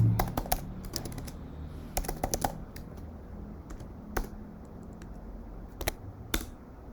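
Someone types a password on a computer keyboard: irregular bursts of sharp, close key clicks with short pauses between, and no voices.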